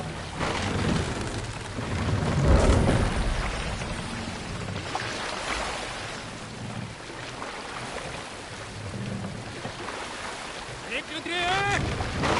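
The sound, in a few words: longship sailing on the sea, video game Assassin's Creed Valhalla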